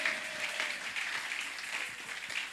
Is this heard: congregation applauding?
yes